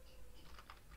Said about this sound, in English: I simply do that by typing npm